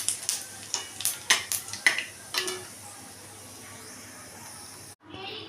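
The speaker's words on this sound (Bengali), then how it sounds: "তেজপাতা, শুকনো লঙ্কা ফোড়নে দিলাম, জিরে ফোড়নে দিলাম" Bay leaves, dried red chillies and cumin seeds temper in hot oil, giving a run of sharp spluttering crackles that settles into a soft steady hiss before cutting off abruptly.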